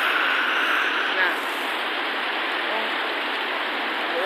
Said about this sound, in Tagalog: Kay ulan dayon dito.